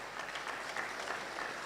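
Audience applause at a graduation ceremony: dense, steady clapping from a crowd of many hands, sustained and even throughout, with no voices over it.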